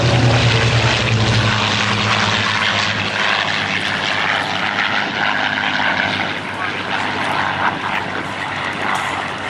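A propeller warbird engine drones loudly and steadily throughout at an airshow, its heavy roar gradually easing as the plane passes by.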